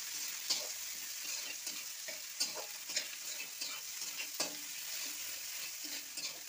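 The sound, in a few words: crushed garlic and green chilies stirred and frying in a pan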